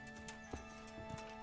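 Faint, steady clip-clop of a horse's hooves plodding along in the video game Kingdom Come: Deliverance, over a constant electronic hum, a couple of soft thuds standing out.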